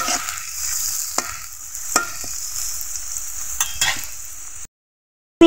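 Chopped onions fry lightly in a pan for a taki fish bhuna, a steady sizzle broken by sharp scrapes of a knife pushing them around, ending in a brief silence.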